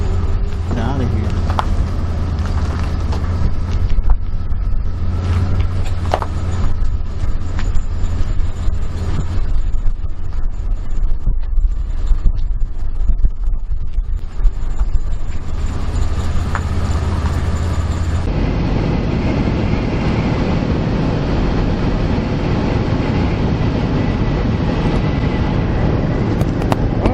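A car cruises along a highway, its steady road and engine drone filling the cabin without a break for the whole stretch; the tone shifts partway through.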